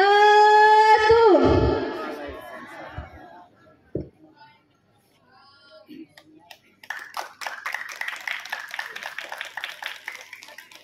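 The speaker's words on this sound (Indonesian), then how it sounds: "Tepuk tangan untuk peserta kedua yang telah melaksanakan tugasnya" After a sustained tone and a few scattered knocks, an audience at an adult speech contest in Indonesia begins clapping, a loose patter of hands building over the last few seconds.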